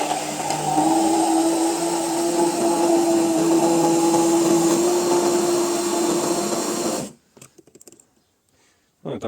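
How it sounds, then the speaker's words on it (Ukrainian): An electric immersion blender whirs loudly and steadily for about seven seconds, blending fishing bait with water, its motor pitch holding firm as it churns, then switches off, leaving faint clatter. "додаю воду і обичним погружним блендером. Перебиваю це в хлам."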